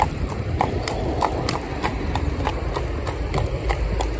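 Hooves of a cob pony pulling a cart on a road beside a large drag trailer clip-clop in a steady, even rhythm, close and clear over a low engine rumble.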